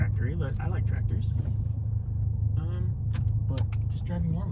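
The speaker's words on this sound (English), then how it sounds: "At low RPMs, I like the sound of it. It's loud. It sounds cool, kind of tractory" A VW MK7 GTI with a loud exhaust that has no muffler rumbles deeply at low RPM. The steady close drone runs throughout, under someone talking.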